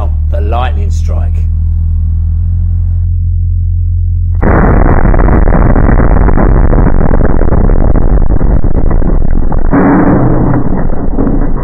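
A simulated lightning-strike surge hits a newer electrical consumer unit with an RCD: after a low hum and brief voices, a sudden loud crackling roar bursts in and holds harshly, swelling again near the end.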